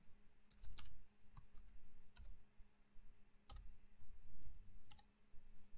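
Sparse clicking keystrokes on a computer keyboard, coming in small clusters and single taps with gaps between them, quiet and close in a calm room with no talk.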